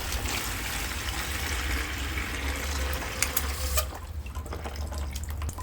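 Steady broadband rush of water running from a garden hose tap controlled by an irrigation timer, continuous and fairly close, with a few brief clicks and a slight drop in flow near the end.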